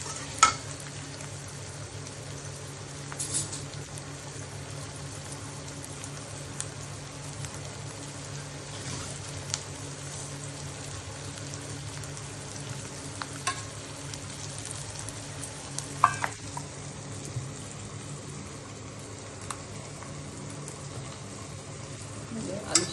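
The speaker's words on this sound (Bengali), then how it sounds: "একটু কষবো" Bengali ghugni being sautéed and stirred in a pan, with a soft continuous sizzle broken by scraping stirring strokes and occasional sharper clinks of the spoon against the pan, heard close and fairly quiet.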